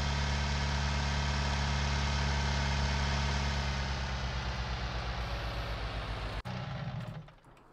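A tractor engine runs in Farming Simulator 19, set on a farm in Hungary, with a loud, steady low drone that cuts off abruptly near the end and then settles into a softer hum.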